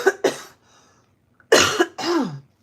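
A few short, harsh coughs close to the microphone, separated by brief pauses, with a throaty clearing sound among them.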